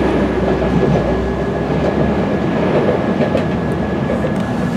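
A Hull Trains service passes close by on the approach to Beverley station on the Yorkshire Coast Line, giving a loud, steady rumble of rail noise and a faint wheel hum with no talking.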